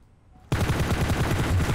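Gunfire from shooting enemies in PUBG Mobile starts abruptly and rings on as a loud, steady rapid-fire burst with evenly spaced shots, up close with no voices.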